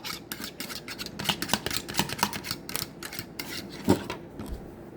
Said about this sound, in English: We're going to just whisk at it more.